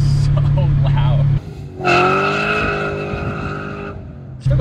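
Supercharged LS3 V8 swapped into a BMW E39 sedan accelerating hard, heard from inside the car as a loud rising engine roar that swells after a short lull, with supercharger whine and no clear talk over it.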